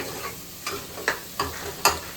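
Spice masala roasting in a pan gives a low, continuous fry under a handful of sharp spatula clicks and scrapes spaced about every half second, fairly quiet and close.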